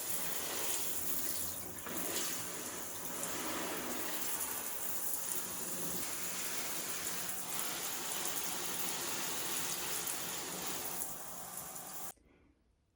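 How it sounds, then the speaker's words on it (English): A tap shower sprays water onto freshly repotted houseplants in a steady hissing stream for about twelve seconds, then cuts off abruptly into silence. "But I'm gonna go ahead and give these a little shower."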